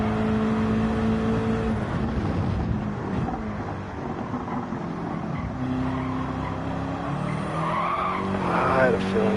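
A race car in Gran Turismo 7 at Trial Mountain oversteers under heavy throttle, its tires squealing and skidding for several seconds over a continuous engine drone, loud and close.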